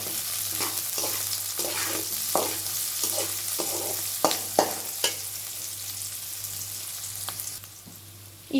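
Onions sizzle steadily in hot oil while a spoon scrapes and stirs the pan, with a few sharper clinks of the utensil against the pot.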